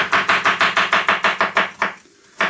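A knife chops marrow on a cutting board in about a dozen quick, evenly spaced thuds, close and crisp, pausing briefly before one final chop.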